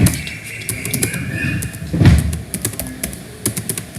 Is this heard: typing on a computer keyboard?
yes